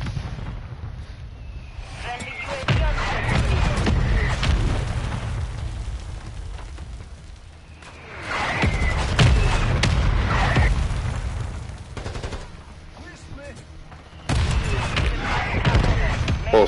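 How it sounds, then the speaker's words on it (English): Explosions from a friendly mortar strike in a shooter video game land in a few heavy, booming bursts spaced several seconds apart, with players talking over the action. "Friendly mortar strike on the way."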